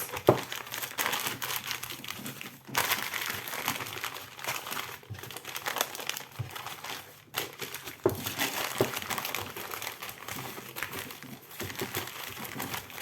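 Continuous crinkling and rustling of plastic packaging while wrapping a parcel, close up, with scattered crackles and handling noises throughout.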